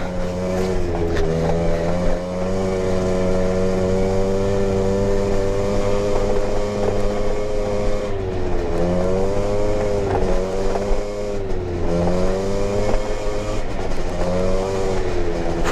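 An Aprilia SR50R scooter's small engine buzzes loudly while being ridden, its pitch dipping and climbing repeatedly as the throttle changes.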